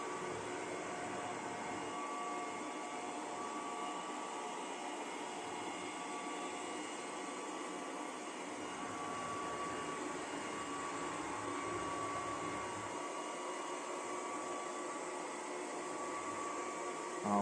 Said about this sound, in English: The sound of the vacuum is actually pretty low. It's much lower than a regular vacuum cleaner.